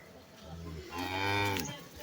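A Jersey-cross dairy cow at a farm in Hathazari, Chittagong gives one loud, close, drawn-out moo that rises and fades over about a second, with no talking.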